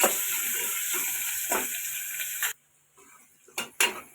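Onions salted and frying in a pan for mutton liver curry give a steady close sizzle that cuts off abruptly, followed by a few faint clinks and stirring knocks.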